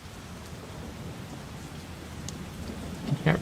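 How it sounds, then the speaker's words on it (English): Steady nighttime rain in the Persona 4 Golden video game, a constant close patter of drops with a low rumbling undertone that swells slightly toward the end, alone with no voices. "I can hear it raining outside."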